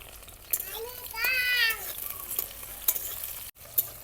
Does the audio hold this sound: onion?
yes